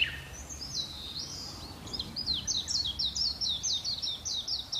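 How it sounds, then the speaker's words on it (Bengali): Small birds sing in spring around a village home, with a rapid series of high, repeated chirping notes, fairly clear and close, over a soft background hum with no talking. "আর পাখির আওয়াজ আসলে ওই মানে এখন তো স্প্রিং"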